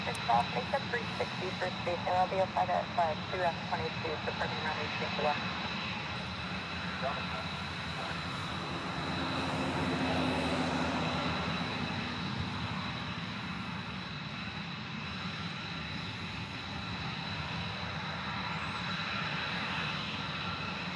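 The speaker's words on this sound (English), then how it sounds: "We got a couple F-22s." Two F-22 fighter jets fly over Hawaii with a broad, sustained engine roar that swells and fades across the span, heard beneath ongoing talk.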